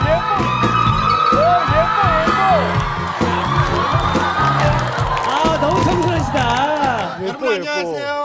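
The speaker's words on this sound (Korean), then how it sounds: "여러분들의 큰 박수 필요합니다" A studio audience on a Korean variety talk show whoops, yells and cheers loudly and without pause, with music and voices mixed into the steady crowd noise.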